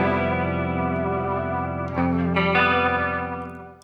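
Electric guitar played through a PRS effects pedal with the high-end knob turned up, sustained chorus-like wash of bright, layered tones with a fresh strum near the two-second mark, ringing steadily and fading at the end.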